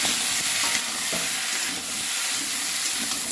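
A spatula stirs a vegetable curry with pumpkin and winter vegetables in a hot pan, giving a close, steady sizzle with rhythmic scraping throughout.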